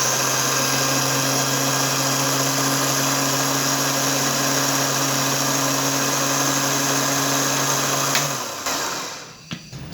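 Blender grinding rice for kheer, a loud steady whirring motor that runs for several seconds before winding down and stopping near the end.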